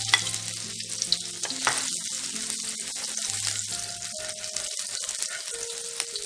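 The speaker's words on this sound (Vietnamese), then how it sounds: "Khi mà cái dầu của chúng ta nó đã sôi lên á thì mình sẽ cho hành lá, gốc hành lá vào mình khử ha." Scallion bases hitting hot oil sizzle steadily and close up, with stirring clatter throughout, as the aromatics are sautéed for a braised tofu dish with fermented soybean paste.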